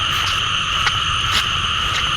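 Frogs croak at night in a loud, dense chorus, with steady overlapping calls and sharper individual croaks popping out at intervals, close by and without talk.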